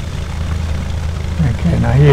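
A Cessna 172's propeller engine drones steadily at low throttle while taxiing, a close, continuous buzzing hum, with a voice speaking over it near the end.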